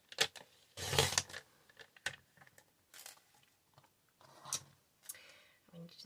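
A paper trimmer slicing card panels for a handmade card, with a loud, crisp cut followed by smaller clicks and rustles as the card is shifted, heard close up in a quiet room.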